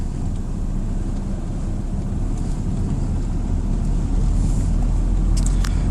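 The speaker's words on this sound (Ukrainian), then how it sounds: "Отака дорога тут. Яма на ямі. Заїжджаєш і виїжджаєш з ям." A van rolling along a potholed rural road in Ukraine, a continuous loud low rumble and road roar from inside the cab with faint bumps, no talking.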